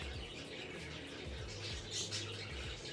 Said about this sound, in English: The birds just woke up.